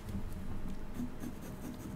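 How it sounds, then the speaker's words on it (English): A pencil lightly marking stems on fabric, with soft, close scratchy strokes repeating in a quiet, steady patter. "with this pencil, just kind of lightly mark"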